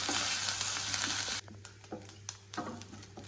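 Grated coconut with green chillies sizzles loudly in hot oil, then the hiss drops sharply, leaving quieter crackling and a few stirring scrapes.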